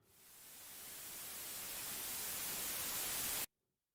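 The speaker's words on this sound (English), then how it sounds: "this is how we could probably do some type of white noise riser" White noise riser built on the FL Studio 3xOsc synth, a hiss that swells steadily louder over about three and a half seconds, then cuts off abruptly into silence.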